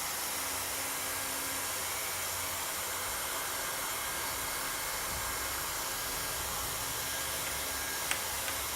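Hot air plastic welder running while a kayak is welded, giving a constant, close, broadband blowing hiss like a hair dryer that holds steady throughout, with a faint click near the end.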